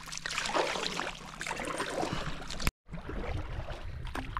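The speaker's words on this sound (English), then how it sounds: "we're going for a paddle to it" Paddling a small boat out toward an island on a camping trip, with steady watery swishes and gurgles close by, a brief dropout midway, then more splashing strokes.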